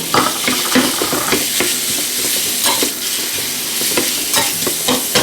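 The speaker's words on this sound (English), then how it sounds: "we add some oil to our pan and we're going to fry off our pork mince" Pork mince fries loudly in oil in a pan for a larb moo Thai salad, with a continuous crackling sizzle broken by frequent scraping stirs.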